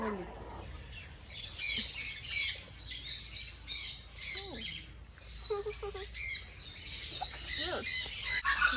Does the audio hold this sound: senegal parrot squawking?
yes